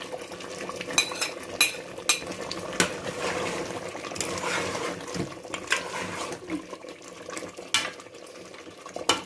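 Achar gosht stir-fried in a pot after green chillies go in, with steady sizzling broken by frequent scraping and clinking of a spoon against the metal pan, up close and fairly loud.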